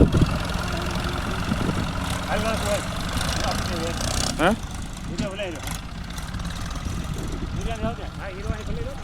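Mini lorry loaded with sorghum pulls away with a steady, mid-pitched engine rumble at close range, while people talk over it throughout.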